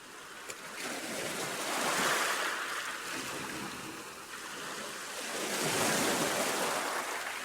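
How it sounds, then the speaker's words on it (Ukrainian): Ocean waves surging and washing in broad, steady sea swells, rising to louder crests around the middle and again near the end, with some wind noise. "Так, це звуки хвиль води"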